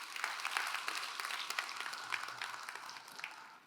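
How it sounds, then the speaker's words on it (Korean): A church congregation claps together during a Sunday worship service, a sustained, even round of applause at moderate volume with a faint low murmur underneath. "우리 하나님께 영광의 박수를 올려드립니다"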